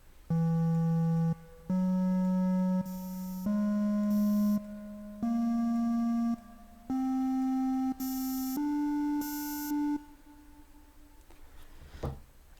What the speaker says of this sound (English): Now when you play the whole tone scale